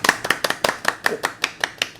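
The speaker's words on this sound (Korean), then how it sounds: "힘내시라고 우리 응원의 박수 한번 보내드릴까요?" Scattered, uneven hand claps in a quick irregular rhythm, sounding like a small group applauding to encourage someone on a picture-book counseling talk show.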